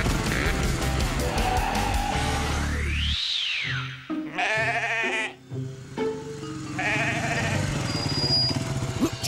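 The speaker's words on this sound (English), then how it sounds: "That must be Alf's lost sheep." A cartoon sheep stuck in mud bleats several times over an animated soundtrack, with drawn-out wavering bleats that stand out clearly against background music and effects.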